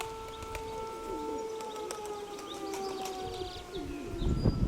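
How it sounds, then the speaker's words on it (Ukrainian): A wailing air raid siren drones in steady held tones from a distance, with pigeons cooing and fluttering nearby as a bird call punctuates the outdoor scene. "Під сирену."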